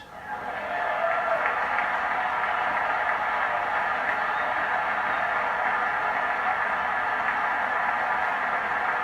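Sustained applause from a large crowd at the 2020 State of the Union address, a dense wash of clapping that swells in and holds steady throughout.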